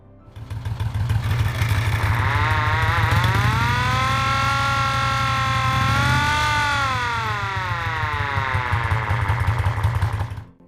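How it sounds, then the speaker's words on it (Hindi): An early mechanical siren on a police motorcycle, spun by the wheel tire like a dynamo, wails loudly as its pitch climbs, holds and falls back, with the motorcycle's engine chugging beneath it. "एक शुरुआती आविष्कार था विशेष ध्वनि संकेतक, जो मैकेनिकल ड्राइव से चलता था।"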